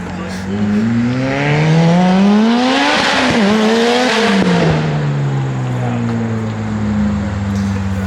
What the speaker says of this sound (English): He's having trouble keeping it idling at the light.